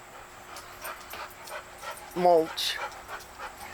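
Dogs at a home kennel with a muddy yard bark and whimper briefly, a short burst of close yelps in the middle, while a person talks over the top throughout.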